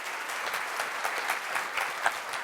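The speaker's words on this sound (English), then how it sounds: "round of applause for Mr. Creative himself, Garey Hull." Audience at a talk on creativity and business breaks into applause, an even wash of many hands clapping, steady and fairly loud throughout.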